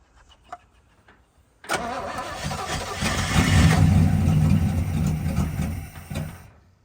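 The engine of a 1964 Chevrolet El Camino cranks without starting. After a quiet opening, the starter churns in a steady loud run for about five seconds, then stops.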